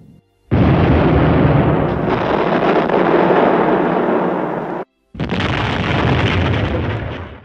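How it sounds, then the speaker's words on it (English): A heavy artillery bombardment roars as a loud, continuous wall of explosions and rumbling blasts, cutting out briefly before another sustained barrage. "a very or what's considered at the time a very extended and heavy artillery bombardment"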